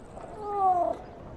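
A single cat meows once, a clear rising-and-falling cry lasting under a second, close and alone over quiet background.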